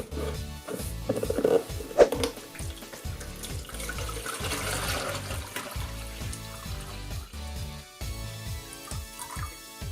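Water is poured into a Princess Ariel sand cove toy, giving a faint trickling and splashing with small irregular knocks and clatters of plastic.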